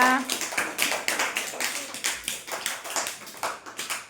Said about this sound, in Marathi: छान व्हेरी गुड चला टाळ्या वाजवा